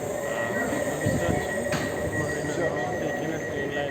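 A tram runs along the tram line at Marina North station in Qatar, giving a steady rolling rumble with a faint high wheel whine and a single sharp click midway. The sound is continuous, close and fairly loud.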